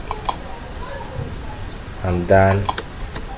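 Close keyboard typing of HTML code on a computer, with a handful of sharp key clicks spread across the moment and a brief voiced sound in the middle.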